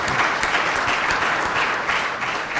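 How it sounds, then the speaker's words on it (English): Steady, dense audience applause for the organizers at a keynote event, a full sustained wash of many hands clapping throughout, fairly loud and without talk. "So we should give them a round of applause as well."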